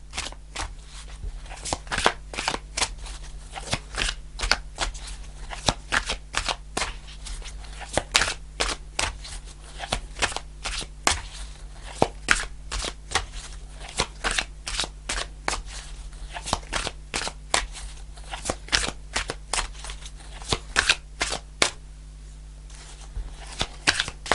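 Tarot cards are shuffled by hand in long runs of crisp, rapid riffling and snapping, close and continuous, with occasional quiet talk.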